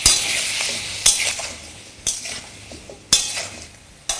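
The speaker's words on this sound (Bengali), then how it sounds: "বাকি কিছু ভাজার আগে আমি এখানে আলুগুলোকে ভেজে নিচ্ছি।" Potatoes salted and frying over medium heat in a pan, a steady bright sizzle broken by four sharp metal clinks of a utensil stirring against the pan, close and without voices.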